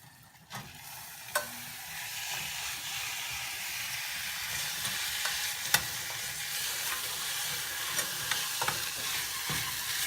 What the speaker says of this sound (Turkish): 200 gram kıymamızı da koyuyoruz arkadaşlar